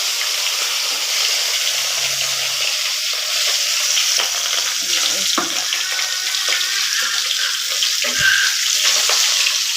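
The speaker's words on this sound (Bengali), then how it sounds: "মরমা মাছ এবার তেলে দিয়ে দিচ্ছি।" Turmeric-coated morma fish crackles and hisses loudly and continuously in hot oil, with occasional soft clatters from the pan and utensil.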